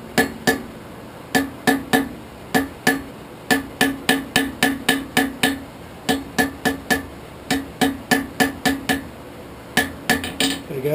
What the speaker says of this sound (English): we're going to forge weld it right there.